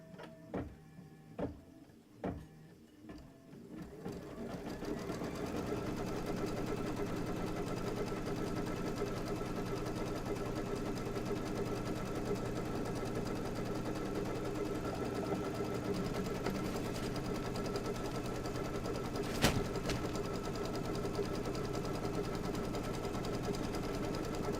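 An embroidery sewing machine runs a placement stitch for a quilting block. A few separate needle taps come first, then a steady, close, mechanical whirring stitch continues without pause.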